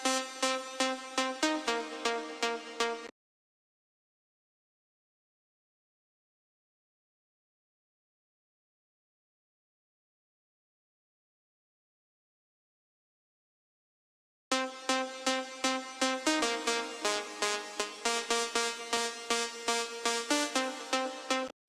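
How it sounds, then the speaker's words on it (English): Afro house synth lead made in FL Studio, bright rhythmic plucked notes with a cutoff filter opening up, playing in two loud bursts separated by a long stretch of silence, with no voice. "let's also create a cutoff filter to open up the sound like this."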